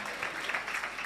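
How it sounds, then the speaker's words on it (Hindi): A church congregation claps together during a Hindi-language sermon, a steady, dense wash of applause that fills the whole moment without a break. "उनके लिए तालियां बजा दे"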